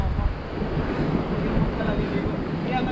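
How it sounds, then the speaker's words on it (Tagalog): Sea waves wash onto the shore along the Catanduanes coast, a steady, loud roar of surf blended with gusting wind buffeting the microphone, with no distinct breaks. "Tapos ito yung dagat dito sa kabila."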